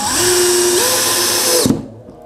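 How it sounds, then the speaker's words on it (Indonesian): A Power Action BID20 cordless hammer drill drives a screw straight in without a pilot hole: a steady, loud motor whine that rises slightly in pitch, then cuts off abruptly and winds down. "jadi langsung saya bor saja, bukan, saya lakukan penyekrupan saja"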